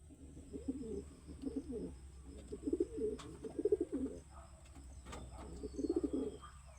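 A pigeon sick with adenovirus coos softly in several low, throaty bursts while being given drops of medicine, fairly close over a faint steady background hum.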